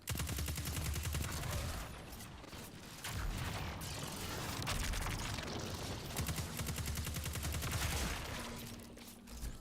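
Dense video game gunfire rattles almost nonstop in rapid bursts, heavy and close, with brief lulls between volleys.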